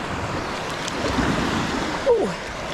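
Ocean surf washing onto the beach at Pass-a-Grille, a steady broad wash with a slightly louder surge near the end, close by and alone without talk.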